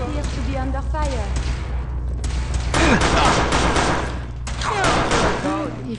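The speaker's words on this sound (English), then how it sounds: "We appear to be under fire." Fallout 4 video game combat: dense, continuous gunfire with rapid automatic bursts and thuds throughout, loud and sustained, with voices talking over it.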